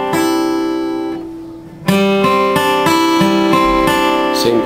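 An acoustic guitar fingerpicks a lesson arrangement of a song, with ringing notes, a short fade to near silence, then a steady repeating pattern of plucked strings played up close.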